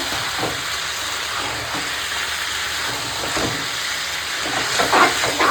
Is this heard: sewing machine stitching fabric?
no